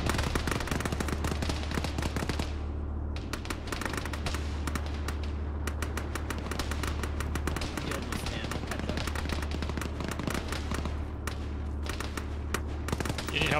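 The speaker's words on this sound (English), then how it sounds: "Hind making gun runs from north to south." Long, rapid bursts of helicopter cannon fire from a Hind gunship making a gun run in a military video game, loud and continuous over a steady rotor drone, with brief pauses between strings of shots.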